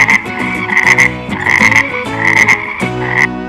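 A frog croaks loudly and close in a rapid, pulsing series of raspy, nasal calls with short pauses between bursts, standing alone without speech; it belongs to a colorful animal safari scene for kids.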